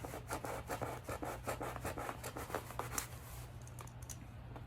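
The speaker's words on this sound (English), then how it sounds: "I am just going to start sawing." A hand saw rasps through a board for a DIY 360 photo booth prop, quick rhythmic back-and-forth strokes, close and fairly quiet, steady throughout with no talking.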